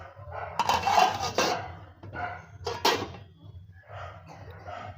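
A metal lid is set onto a pot of potatoes with a little salt, giving a few clanking, rattling knocks of lid against pot, close and moderately loud, with quiet gaps between.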